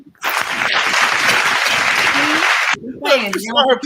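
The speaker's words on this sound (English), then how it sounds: "Can you go give my girls a clap?" Audience applause for women panel members at a live talk event, a dense sustained wash of clapping that cuts off abruptly near the end, followed by a voice speaking.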